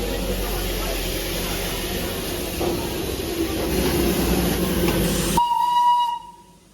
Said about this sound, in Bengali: দুর্ধর্ষ লাগে দার্জিলিং, আর তার সাথে টয় ট্রেনের ঝিকঝিক ঝিকঝিক আওয়াজ।